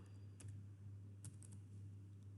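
A command typed on a computer keyboard in a quiet room: a few sparse, soft key clicks in small bursts over a low steady hum.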